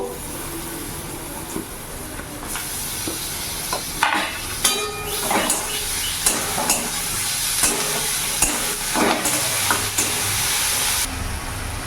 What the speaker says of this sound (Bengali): এখানে আমার পেঁয়াজের আর পটল বীজটা হাফ ভাজা হয়ে গেছে